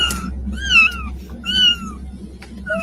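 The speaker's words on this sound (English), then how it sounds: "Oh my god, look at the baby kitten." Baby kittens meowing in a cluster, several high, rising-and-falling mews in close succession, close and fairly loud over a low steady background hum, with no talking.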